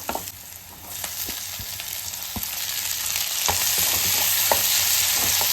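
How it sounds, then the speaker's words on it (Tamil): Onions sauté in a pan for mushroom dosa, a steady broadband sizzle that builds slightly louder over the span, with occasional soft clicks of stirring. "வெங்காயம் வந்து கொஞ்சம் நல்லா வதங்கட்டும்."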